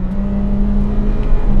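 A Honda Integra Type-R's naturally aspirated engine screams near its 8,400 RPM redline in a brief, loud, sustained high-rev drone with a steady whine.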